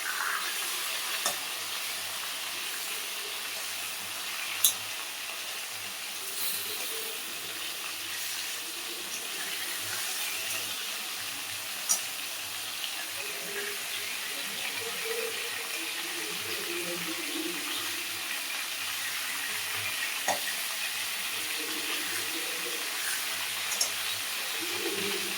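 Stingray fish pieces frying in hot oil in a wok while being turned over, a continuous close sizzle with occasional sharp clicks and scrapes of the utensil.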